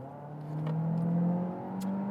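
A Peugeot 308 GT hybrid petrol engine accelerating from about 50 km/h under throttle, a steady droning hum that rises slightly and swells, heard from inside the hatchback cabin.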